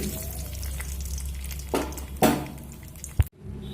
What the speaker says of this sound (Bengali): এই একইভাবে বাকি পনিরগুলো ভেজে নিয়ে আমি ফিরে আসছি